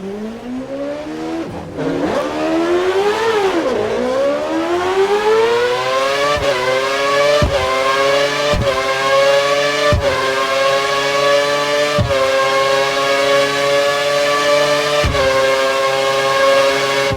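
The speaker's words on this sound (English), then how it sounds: "Head down the track accelerating past 257 kph, then brake so that you come to a complete stop in the designated area" An F1 race car in F1 2013 accelerating hard past 257 kph, its loud, close engine whine climbing in pitch through repeated upshifts, each gear change a brief dip before the scream rises again.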